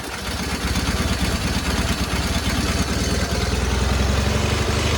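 John Deere 318 lawn tractor engine starting without choke, stuttering and sputtering as it catches, then settling into a steady, fairly loud idle with rhythmic pulsing, close by.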